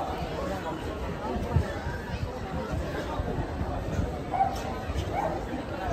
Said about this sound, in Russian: Собаки дерутся, ругаются.